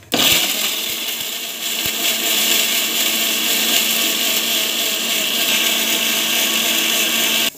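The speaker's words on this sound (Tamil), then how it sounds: "இப்போ வந்து பார்த்திங்கன்னா மிக்சியில் போட்டுட்டு அரைச்சிக்க போகிறோம்" A kitchen mixer grinder whirs loudly, grinding masala gravy paste, starting abruptly with a few knocks and then holding a steady, harsh motor whine until it cuts off at the end.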